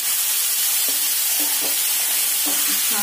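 Grated carrot sautéed in ghee with crisp dry fruits in a pan gives a steady close sizzle and hiss, broken by a few soft stirring scrapes, with no talking.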